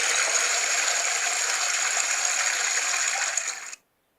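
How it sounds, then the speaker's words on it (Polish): A mobile game's toilet flush: a steady rushing gush of water pours for several seconds, loud and close, then cuts off abruptly into silence. "potem to leci na dół, spuszczacie wodę"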